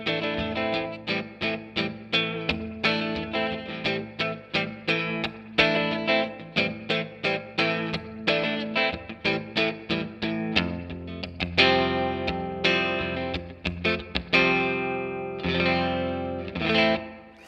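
Electric guitar on the neck pickup through a Fender Tre-Verb reverb pedal set to a blackface Fender Deluxe-style spring reverb, playing a strummed and picked passage with rhythmic chord hits and a washy reverb tail, alone.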